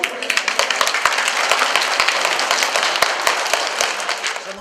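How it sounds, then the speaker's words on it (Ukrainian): Audience clapping at a school charity event, a sparse crowd of hands giving steady, fairly loud applause with distinct individual claps throughout. "подякуємо йому бурхливими оплесками"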